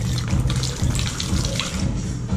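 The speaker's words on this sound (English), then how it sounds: "many of you saw the long pour with a cut" A bartender doing a long pour with a cut behind a bar, producing a continuous splashing stream of liquid that briefly breaks and resumes, loud and close with no talking.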